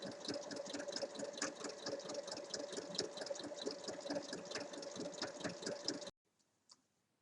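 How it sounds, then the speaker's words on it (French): A domestic sewing machine topstitches around the edge of a fabric origami bag with a steady, fast mechanical whirr and needle clatter that runs unbroken for about six seconds, then stops abruptly, leaving near silence with a faint click. "on vient faire une surpiqûre tout le tour pour fermer l'ouverture"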